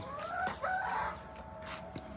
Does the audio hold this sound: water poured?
no